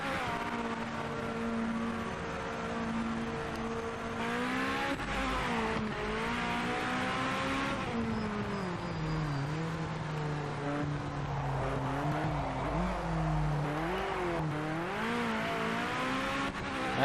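A race car engine in the Project Motor Racing video game revs continuously, rising and falling in pitch through gear changes and throttle lifts, steady and prominent throughout with no talk.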